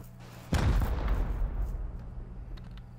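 A rocket explodes during a raid in the survival game Rust, one loud deep blast that booms near and then rumbles away over a couple of seconds, with no talking.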